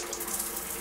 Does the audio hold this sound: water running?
yes